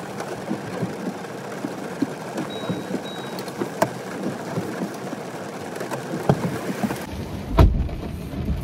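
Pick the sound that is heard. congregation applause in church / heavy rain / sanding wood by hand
heavy rain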